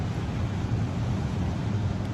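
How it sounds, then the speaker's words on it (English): Steady wind and surf wash at a beach, a constant low roar with no distinct breaks. "sorry about the noise, the beach noise"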